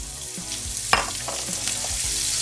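Onions hit a pan of hot avocado oil and pork chop drippings with a steady sizzle and crackle, a few scrapes of stirring over it, close and moderately loud.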